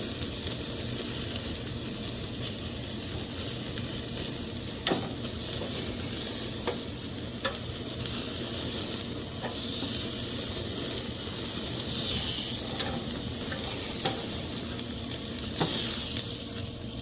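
Picanha (top sirloin cap) fat searing in a hot pan, a continuous loud sizzle with scattered pops and crackles for the whole stretch, no talking.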